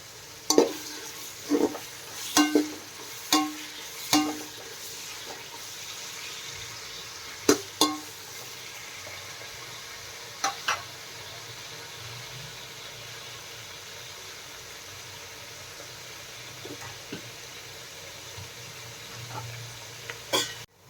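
Onions and green chillies sautéing in a pan, a soft continuous sizzle under repeated sharp scraping clatters of a spoon stirring, busier at the start and sparser later.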